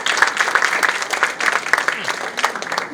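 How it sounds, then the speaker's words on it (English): Audience at a Bharatanatyam arangetram dance recital applauds steadily, a dense, sustained wash of many hands clapping at fairly close range for the full three seconds. "Let's give her a big applause,"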